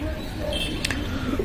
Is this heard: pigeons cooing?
yes